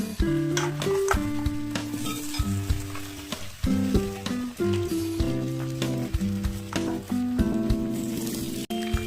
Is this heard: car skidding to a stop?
no